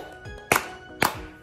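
Two sharp hand claps about half a second apart, loud and close, used as a slate to sync footage, with a faint low thump trailing each one.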